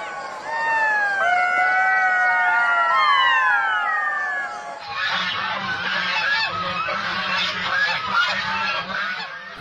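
Several cartoon ducks honk and quack in a loud, overlapping chorus, first with high gliding calls and then a denser, busier flock, with no speech.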